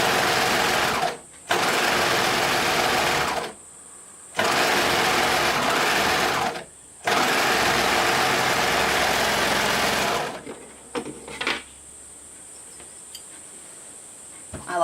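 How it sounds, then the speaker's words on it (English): A sewing machine stitches the side seams of a white swimsuit lining, a loud, steady whirring hum in three long runs with short pauses. After the last run come softer handling clicks and rustles. "now I'm going to sew them up at the side seams"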